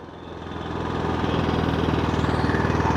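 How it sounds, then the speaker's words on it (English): An AIMS 6600-watt 120V/240V portable inverter generator runs steadily nearby, its low, even engine drone building over the first second and then holding at a constant loud hum with a fine pulsing rhythm. "Okay, generator will start."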